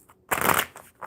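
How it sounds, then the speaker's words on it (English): Tarot cards being shuffled give one short, crisp riffle at close range, followed by a faint soft tap. "One more good shuffle."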